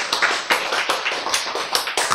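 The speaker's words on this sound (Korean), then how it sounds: "이제 이쯤 되면 박수가 나와야지." Audience applause in a lecture hall during a Korean sermon-style lecture, steady clapping from many hands at close range with no talk over it.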